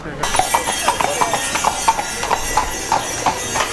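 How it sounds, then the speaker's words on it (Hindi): Hooves of a horse-drawn carriage clip-clop in a steady, brisk rhythm on pavement in Zermatt, close by, with a faint background hum. "स्टेशन के बाहर खड़े रहते हैं ये घोड़ा गाड़ी"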